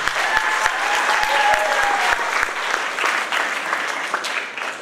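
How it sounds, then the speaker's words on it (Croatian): An audience at a school's 220th anniversary celebration in Loznica claps loudly and steadily in a dense, sustained round of applause. It fades slightly toward the end. "hoćemo li aplauz jedan za do sada"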